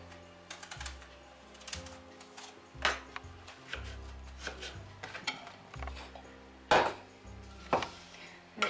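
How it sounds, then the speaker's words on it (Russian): A knife taps and thuds repeatedly on a cutting board while cubing eggplant, irregular chops near and clear, with faint scraping between strikes. "Нарезаем баклажан кусочками, кубиками и присыпаем солью"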